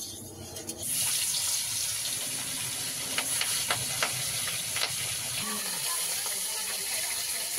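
Fish sizzling as it hits hot oil in a wok, a steady loud frying hiss starting after a brief quiet moment and continuing throughout, with a few sharp crackles and spatters.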